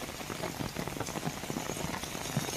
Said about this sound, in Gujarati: વરસાદ શરૂ થતાં રસ્તાઓ પર પાણી ફરી વળ્યા